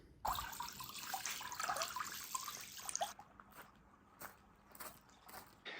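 A tap at an off-grid homestead in Spain runs water into a pool during a heatwave, a brief rushing gush at first, then thinner splashing and dripping, close and moderately quiet.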